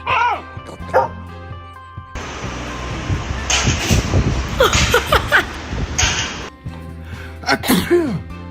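A dog sneezes several times, close and sharp bursts amid short yips and whimpers, while a person talks to it in between.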